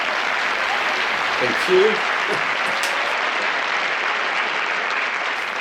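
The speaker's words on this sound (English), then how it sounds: "The whole room like exploded with laughter and applause" Close, continuous applause from an audience after a song performance rolls on steadily, with a voice briefly saying something partway through.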